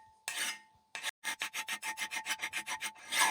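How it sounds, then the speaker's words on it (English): Hand file rasping across a blacksmith's steel slot punch, a quick series of about a dozen short, even strokes in a regular rhythm, close and crisp, with no talk. "we're just going to take a file and just go nice and make this a 90-degree from the main shaft of"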